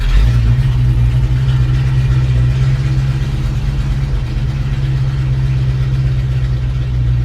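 A 1961 Rambler car engine idles steadily, loud and close, with an even low rumble that holds for the whole stretch and no talking over it.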